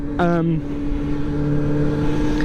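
A heavily crashed and dropped Kawasaki 636 stunt motorcycle cranks with a brief whirring start, then settles into a steady, close idle drone.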